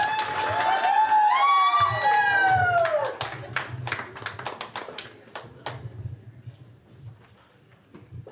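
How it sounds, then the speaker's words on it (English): A crowd at a 21st birthday celebration breaks into applause, with a dense patter of clapping and a few cheers and whistles, loud at first and then thinning out to scattered claps. "let's give her a round of applause"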